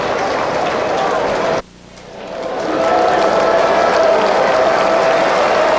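Baseball crowd at a Dodgers vs Red Sox spring training game applauding pitcher Oil Can Boyd as he leaves the field, a steady broad roar of clapping and cheering that briefly dips, then swells back and holds loud.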